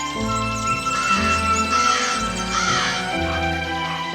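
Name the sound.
crows cawing in a cartoon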